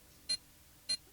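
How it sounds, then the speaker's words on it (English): Two short, sharp electronic beeps in The Pandora Directive video game, evenly spaced about half a second apart, clear against a quiet background. "that beeping noise is gonna get on all of our nerves"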